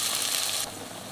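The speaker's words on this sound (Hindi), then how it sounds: "ऐड करना है पिसा हुआ मसाला। इसको थोड़ा सा हम भूनेंगे।" Ground spice masala frying in a pan for keema, a steady broadband sizzle that drops slightly in level partway through, heard alone with no talk.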